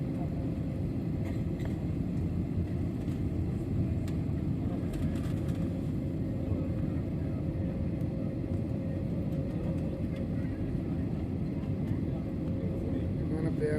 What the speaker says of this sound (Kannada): ಹೈದರಾಬಾದ್ನಿಂದ ಕಲ್ಕತ್ತೆಯ ಭುವನೇಶ್ವರದವರೆಗಿನ ವಿಮಾನ ಪ್ರಯಾಣ ನಮ್ಮದು.